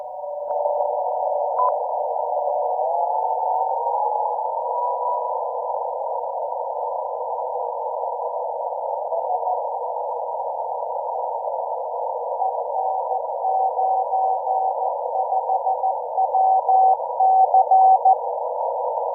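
A steady ham radio tone on the 80-meter band hums alone, with faint Morse code beeps drifting in and out as the signal fades and returns.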